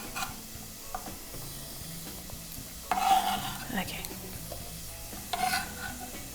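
Onion and garlic fry in a pan, a steady soft sizzle throughout with scraping stirring strokes and a few clinks of a utensil against the pan, close and moderately quiet.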